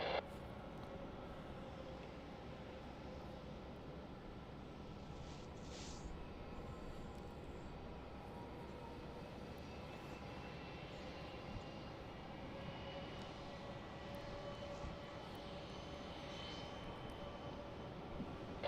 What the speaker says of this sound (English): Velocity 1031, runway 27, cleared for immediate takeoff.